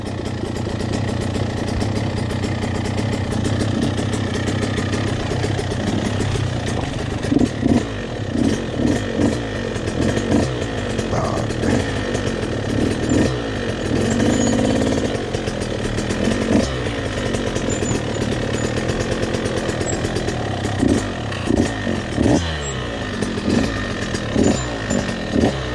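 An enduro dirt bike engine on a steep mountain trail buzzes close and loud, a rasping idle with repeated throttle blips and revs over about twenty-five seconds, with no talking.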